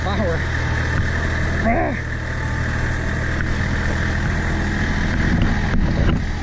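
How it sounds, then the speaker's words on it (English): A tractor engine labors up a nearly vertical slope, a loud, steady diesel drone with rumbling low tones and whining harmonics, and a person talks briefly over it near the start. "Oh, that tractor's got some power."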